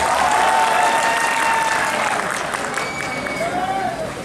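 An audience at a Hindi poetry gathering claps together in a dense, sustained burst of applause, loud and continuous across the whole stretch.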